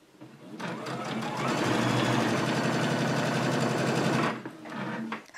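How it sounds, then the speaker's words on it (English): A sewing machine stitching a seam across a placemat from edge to edge, a fast steady mechanical whirr running for several seconds close by, then slowing and stopping. "I've sewn from edge to edge"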